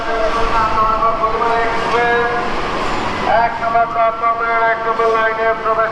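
Burimari Express pulls out of the Airport railway station platform, a loud close rumble of wheels with sustained tonal whine and screech over it, while a voice talks on top.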